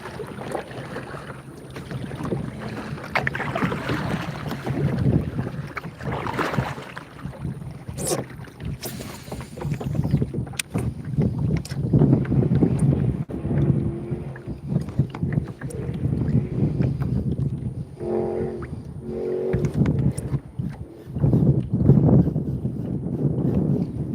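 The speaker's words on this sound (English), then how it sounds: "I'm gonna paddle up this way so we can float down this way." Kayak paddled on open water against the wind, with irregular paddle splashes and hull knocks under steady wind buffeting on the microphone, no talk.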